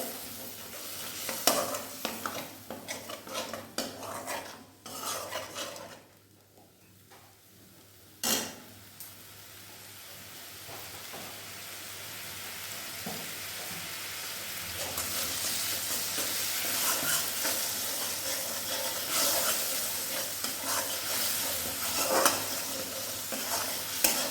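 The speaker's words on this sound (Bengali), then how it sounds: "এবার এটাকে একটু নাড়াতে হবে।" Spice paste thinned with a little water being stirred and fried in a pan for sesame paneer, with scraping spoon strokes and knocks over a sizzle that builds steadily louder and denser.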